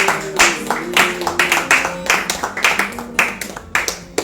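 A worship congregation claps together in steady rhythmic acclaim, loud and close, with voices faintly singing or calling beneath the beat.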